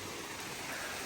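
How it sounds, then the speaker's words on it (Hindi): Heavy monsoon rain pours down steadily at a village home in the Garhwal hills of Uttarakhand, a dense, constant hiss with no pauses and no voices. "ये देखो भयंकर बरसात।"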